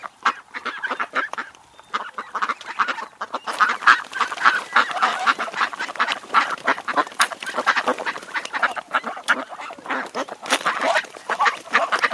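A flock of geese honk continuously, overlapping calls in a busy, fairly close chorus with no pauses.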